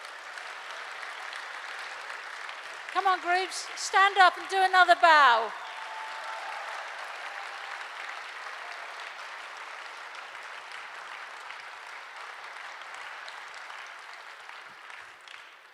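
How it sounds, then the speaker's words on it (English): Sustained audience applause for three groups at a 2019 Aurora Dialogues event on humanitarianism in education, a steady dense clatter of many hands filling the room, with a speaker's voice briefly cutting in over it early on before the clapping slowly tapers. "a round of applause for all 3 groups"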